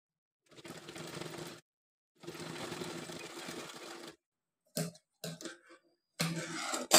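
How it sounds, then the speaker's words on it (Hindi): Domestic sewing machine stitching a small summer dress in several separate bursts of rapid mechanical whirring, close and fairly loud, the stops and restarts growing shorter toward the end. "यहां से देखिए हम इस तरीके से इसको यहां से सिलेंगे।"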